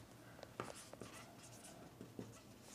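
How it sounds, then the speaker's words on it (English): Writing on a board gives faint, sparse scratching strokes over a low steady hum, with a few brief taps spaced through the stretch. "So let's write that here"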